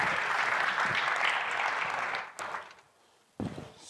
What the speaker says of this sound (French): Oh oui, on peut applaudir.